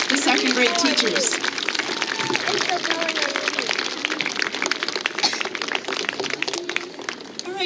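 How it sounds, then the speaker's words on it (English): An audience at a school assembly applauds the second grade class and teachers, dense continuous clapping from a large crowd, loud and sustained, fading slightly toward the end. "one more round of applause for second grade and Mr. Braddock and the second grade teachers"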